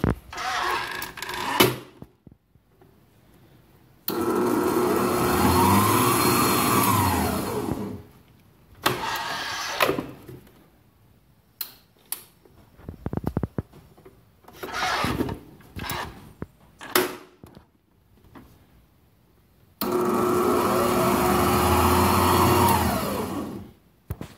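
A Mondial B-06 planetary stand mixer motor is tested during repair, whirring loudly in two long bursts that ramp up and wind down, separated by clicks, handling noises and brief quieter runs.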